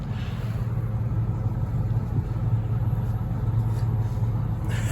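Exhaust from a 2004 Ford F-150 with the 5.4 Triton engine, a steady low rumble recorded close to the pipe, holding constant throughout without revving.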